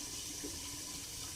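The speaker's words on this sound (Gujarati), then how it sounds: "આપણે થાળીમાં ઉપર પાણી મૂકી દીધું" Water is poured onto a plate in a home kitchen to steam a cauliflower dish, making a steady, faint splashing hiss.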